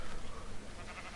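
In the video game RandomQuest, sheep bleat among the trees in a dense, wavering, noisy chorus that runs loud and close for the whole moment.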